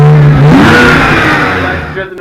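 A Nissan 240SX S13 Silvia engine runs loud and close, revving up with a rising pitch early on, then holding a strong, steady roar that slowly eases off, with voices talking over it.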